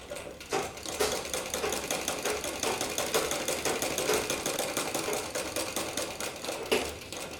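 A sewing machine stitching a tulip sleeve for a blouse, running in a fast steady rhythmic clatter of needle strokes, close and continuous with a brief pause and restart.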